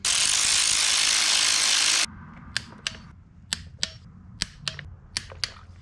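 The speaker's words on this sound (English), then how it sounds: "I'll use a little battery ratchet to go ahead and get her home." A battery ratchet tightens a bolt on an Atlas transfer case. A loud, steady whir runs for about two seconds, then sharp, close ratcheting clicks follow in an uneven series.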